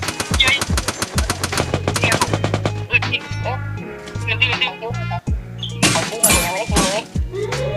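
Rapid bursts of gunfire from a shooting video game clan match crackle loudly and repeatedly, with dense automatic fire and single shots over in-game effects while a player talks.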